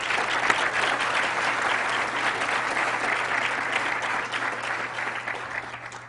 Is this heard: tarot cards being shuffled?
no